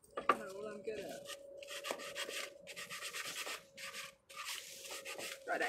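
Wood for a bench being sanded by hand in rhythmic rasping strokes, fairly close and moderately quiet, broken by brief pauses. A faint tonal hum runs underneath and a few light knocks are heard.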